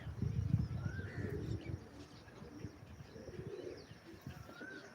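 Pigeons in a flock of about six, flying as clouds roll in, give soft cooing calls and a few chirps over a low rumbling background, steady and moderately near.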